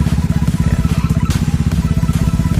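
A loud motorcycle engine runs close by with a fast, steady pulsing throb, fairly even throughout with no voices.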